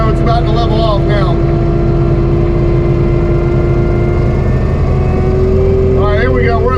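A disc mulcher spins steadily at full RPM, its heavy machinery drone holding a constant tone throughout, with a faint rise near the end as it levels off; someone talks briefly at the start and again near the end.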